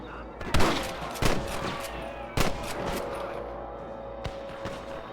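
Shots ring out in a Red Dead Redemption shootout with rustlers, three loud nearby gunshots with echoing tails followed by fainter distant shots.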